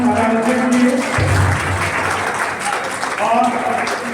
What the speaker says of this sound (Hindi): तो एक बार जोरदार तालियां मैडम आकांक्षा के लिए।